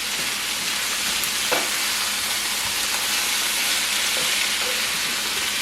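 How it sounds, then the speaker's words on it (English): Onions and mixed fresh vegetables sizzle steadily in a stir-fry pan just after being flipped, a continuous close frying hiss with small crackles throughout and no talking. "And then just flip it, because the onions are basically done on the bottom"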